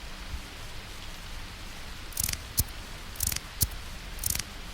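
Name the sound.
rain falling at night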